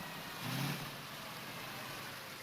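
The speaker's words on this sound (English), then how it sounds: "We begin outside of a motel and a rig pulls up." A truck rig engine rumbles outside a motel in a film scene, rising briefly then settling into a faint, steady low hum.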